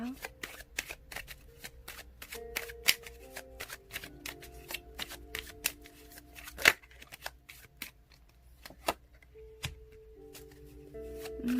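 Tarot cards are shuffled and drawn by hand in a quiet room, with rapid riffling clicks and soft slaps in irregular bursts, a few sharper taps standing out.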